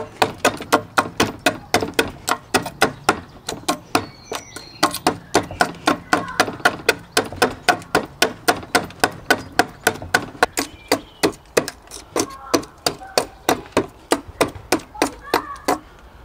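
Steady, rhythmic chopping of wood with a small hand-forged adze hollowing a chair seat, sharp close strikes repeating roughly three times per second with a brief pause partway through.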